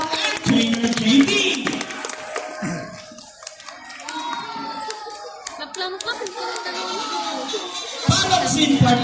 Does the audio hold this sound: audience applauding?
yes